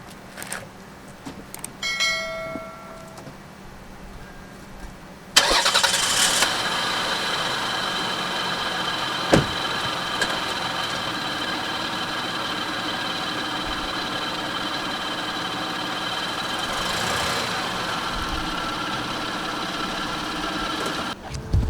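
A Lexus ES 300 car engine goes quiet, then starts abruptly with a loud burst partway through and settles into a steady, even idle. A few faint chimes come before the start.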